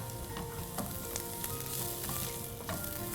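Sliced onions and capsicum fry in a pan with a steady, close sizzle. Scattered clicks and scrapes of stirring punctuate it, and no voices are heard.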